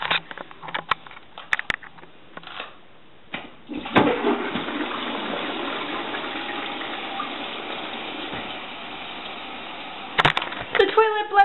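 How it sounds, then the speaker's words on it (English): A household toilet gurgles and bubbles with steady watery churning for several seconds after scattered handling knocks, then ends in a burst of sharper clatter, recorded close in a small bathroom with no talk. "The toilet bloody bubbles."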